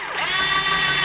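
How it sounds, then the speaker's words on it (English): A cordless drill whirs steadily, driving screws into a C2 Corvette headlight housing, one continuous close, fairly loud run of the motor with no talk. "we're going to use our cordless here and these screws"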